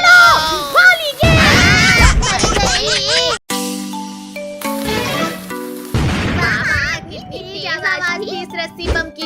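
A cartoon rope bomb firecracker goes off during Diwali, loud booms and bursts mixed with animated children's voices shouting and talking throughout.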